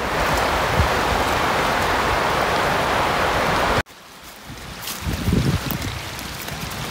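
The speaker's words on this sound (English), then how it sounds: "Next to the stream down there, which falls from the waterfalls up there." A rushing stream fed by waterfalls pours continuously with a loud hiss in a snowy outdoor setting, then cuts abruptly to a quieter, more distant flow with low rumbling gusts.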